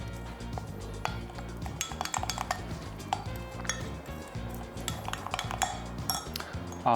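A spoon stirs a poppy seed and lemon pie batter in a bowl with quick, repeated clinks and scrapes. The rhythmic knocking is close and fairly busy and continues for several seconds.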